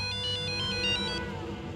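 A phone ringtone plays a bright repeating electronic melody for an incoming call from the hospital, steady and close, cutting off after about a second.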